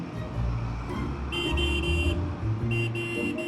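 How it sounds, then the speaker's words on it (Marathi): Vehicle horns honk in stalled traffic: two long toots in quick succession and then another, close and loud over a low engine rumble. "व्हायला हॉर्न मारतोय, हलणार नाही"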